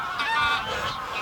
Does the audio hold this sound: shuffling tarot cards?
no